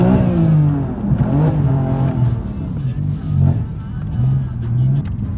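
A BMW drives on a snowy, slippery road on the way to a ring track, its engine humming and revving steadily up close, with someone talking over it throughout.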